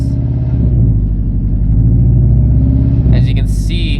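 A supercharged Toyota FRS engine with about 130,000 miles idles and revs unevenly, misfiring, stumbling and sputtering with a rough, loud rumble; a brief higher squeal cuts in near the end.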